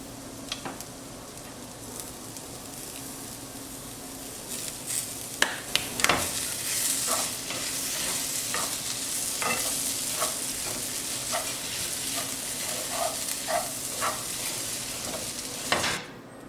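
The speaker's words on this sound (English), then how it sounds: "I then finish it off by stirring in some fresh coriander and curry leaves" Fresh coriander and curry leaves stirred into a frying filling in a pan, a constant low sizzle punctuated by repeated clinks and scrapes of a spoon against the pan, close and without speech.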